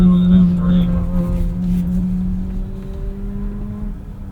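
A BMW M3 buzzes through an off-road driving course, a steady droning engine note that fades gradually as it moves away, with a person talking over it.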